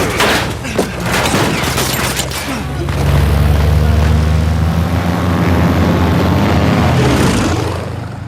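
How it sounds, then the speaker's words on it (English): Gunfire riddles a propeller plane in the video game Uncharted 4: loud rapid bursts and booming impacts crackle at first, then give way to a heavy, sustained aircraft engine roar up close. "They shot up my goddamn plane, Nate."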